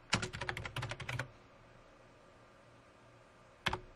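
Computer keyboard typing, a fast burst of crisp close keystrokes for about a second, then quiet, then a final pair of key taps near the end.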